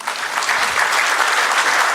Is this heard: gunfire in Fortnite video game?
no